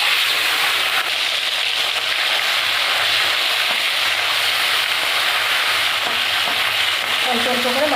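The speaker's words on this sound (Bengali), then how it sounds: "অল্প অল্প করে মাছগুলো আমি ভেজে নেব।" Small puti fish frying in hot oil in a pan, giving a steady, dense sizzle and crackle throughout, close and fairly loud, with no one speaking.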